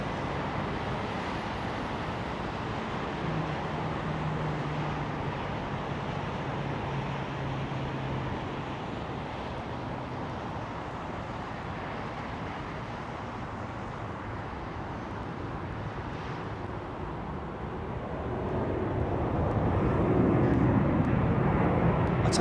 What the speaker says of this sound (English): United 777-200 in it. Listen to this thing as it goes past us, man.